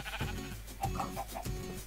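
Sheep bleating in the video game Minecraft, several short bleats in a row against a steady game background, with no talk over them.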